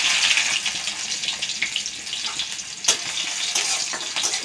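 Chopped garlic sizzles with black cumin seeds and two dried red chilies in a hot pan while being stirred. The close, steady crackling sizzle carries occasional scraping strokes.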